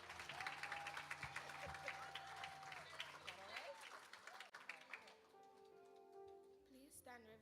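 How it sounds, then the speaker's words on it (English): Graduation ceremony audience at a prep school clapping as a woman comes to the stage, applause that fades halfway with a voice and tonal sounds over it before quieter background remains. "Give her a round of applause."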